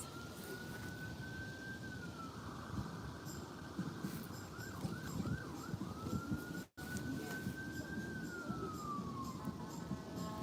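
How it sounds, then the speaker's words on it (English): An ambulance siren wails in the distance from a park, rising and falling in long sweeps with a brief rapid yelp, steady over a low background rumble. "And then we hear the ambulance in the background or the firefighters."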